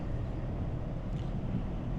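Steady low wind rumble buffeting the microphone beside the I-94 in Minnesota, a continuous roar with no voices.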